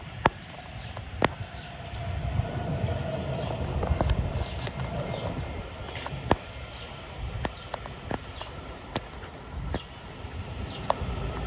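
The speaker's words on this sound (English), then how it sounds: "Here's another metro." Washington Metro train arriving at the Alexandria, Virginia station: a low rolling rumble builds and peaks, then eases off, with sharp scattered clicks and rattles over the track noise.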